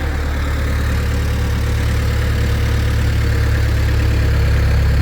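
A sawmill engine idles steadily and loud throughout, a continuous low rumbling drone with even vibration and no speech over it.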